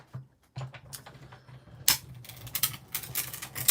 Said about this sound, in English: The greatest sound of all time, because that means your die is cutting through.